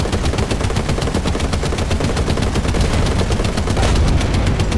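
Rapid, continuous gunfire from tanks and heavy guns in a World War II tank video game, a dense barrage of shots at steady loud level throughout without pause.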